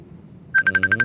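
A phone signals an incoming call with a short burst of rapid beeping electronic pulses, loud and close, coming in after a low murmur of background sound.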